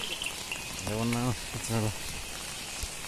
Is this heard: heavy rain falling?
yes